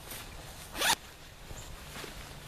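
A single quick pull of a soft shell trouser zipper, a short rasping zip in a quiet room, with faint rustling afterward.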